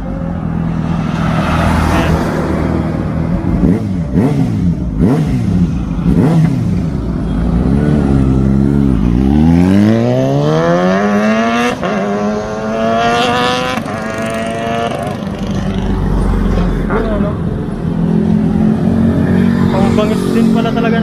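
Kawasaki Ninja ZX-6R motorcycle engine revving up loudly and repeatedly up close, with rising sweeping pitch climbs between throttle blips and a steady idle rumble underneath.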